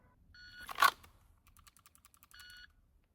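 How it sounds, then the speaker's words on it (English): Electronic shot timer beeps during dry fire pistol practice: two steady tones, one around 0.6 seconds in and another near 2.4 seconds, with a sharp click of the trigger press right at the first beep and faint keyboard-like ticks in between. "That last trigger press was right on the beep"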